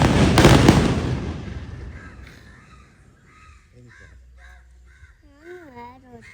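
Firecrackers set off as a temple offering burst loudly at the start, then their crackle fades into a lingering decay while crows caw nearby and voices speak.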